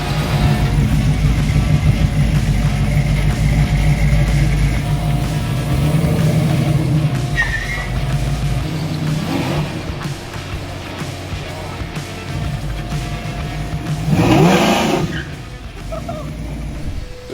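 A muscle car on a test drive drones loudly and continuously with a deep engine note, swelling briefly near the end as it revs, with faint speech partly mixed in.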